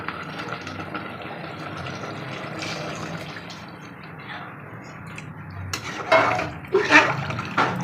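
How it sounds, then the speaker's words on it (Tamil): Water pours steadily into a pot of mutton biryani as it cooks, a continuous splashing rush that swells louder near the end. "நீங்கள் தண்ணியை சேர்த்தாச்சு"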